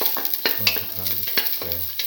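Garlic sizzles in a hot pan while a spoon scrapes and stirs it in several quick, close strokes, each stroke a short rasp over the steady frying hiss.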